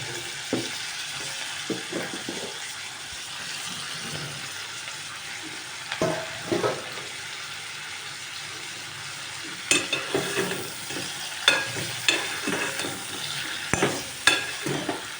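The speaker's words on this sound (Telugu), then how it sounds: "ఇప్పుడు సొరకాయ ముక్కలు వేసుకోవాలి" Bottle gourd pieces fry in a pan with mutton fat for dalcha, giving a soft continuous sizzle close by. Scraping stirs and utensil clacks grow more frequent toward the end.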